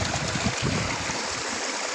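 Water gushes steadily from a village hand pump used as an outdoor shower, a continuous close splashing rush with no voices.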